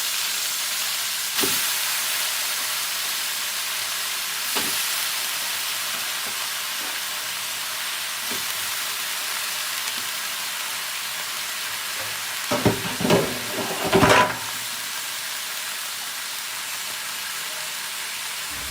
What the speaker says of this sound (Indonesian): sekarang kita masukkan kangkungnya.